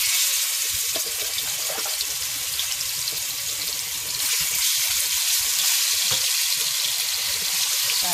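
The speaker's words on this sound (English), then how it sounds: "now I'm going to place the seasoned oxtail that we have there. And then we're going to slightly brown it on both sides" Seasoned oxtail pieces browning in a hot pan for Jamaican-style burnt oxtails, giving a steady, loud sizzling hiss that runs continuously, with faint crackles and no voices.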